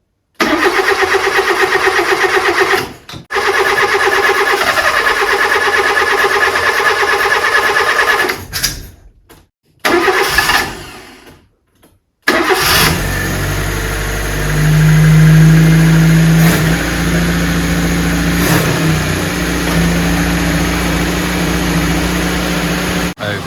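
A Fiat Panda 4x4 engine with a weak battery cranks with a few stuttering attempts and gaps, then catches and settles into a steady, close idle with a slight rev.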